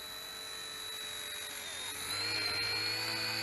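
A small Eachine E110 RC helicopter's electric motor and spinning rotor give a steady, high-pitched whine with a constant tonal hum, growing slightly louder toward the end, heard alone.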